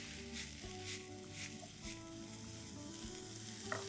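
Mushrooms seasoned with oregano, chilli flakes and salt sizzle steadily on a hot tawa, a soft continuous frying hiss with faint periodic stirring scrapes.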